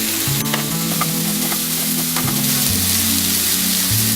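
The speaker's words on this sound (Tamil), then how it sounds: "இதுமாரி லைட்டாக வதக்கிக்கோங்க" Loud, steady sizzling of chopped vegetables lightly sautéing in a hot pan for paneer bhurji gravy, with occasional scraping and stirring sounds, close and continuous.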